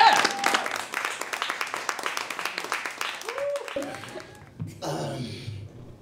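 A comedy club audience claps for the show's host, a loud, fast, dense burst of close applause that thins out and stops, followed by someone speaking.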